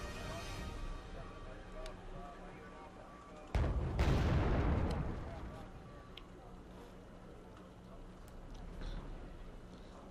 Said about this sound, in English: The mortars takes a bit of its own medicine from the M109 artillery.